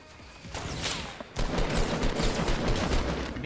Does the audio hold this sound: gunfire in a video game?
yes